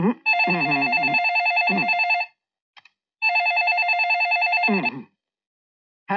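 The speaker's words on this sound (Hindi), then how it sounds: "अभी आईजी ऑफिस में फोन किया है तो यहाँ की घंटी बजेगी ना" A telephone rings in two long electronic bursts with a short silent gap between them, loud and close, and the second burst ends abruptly.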